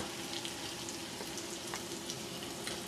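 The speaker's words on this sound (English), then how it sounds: "this chicken is cooking" Chicken fries in a pan with a soft, steady sizzle and faint crackling pops, quiet and continuous throughout.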